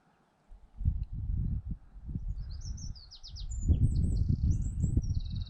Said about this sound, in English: All I can hear is birds.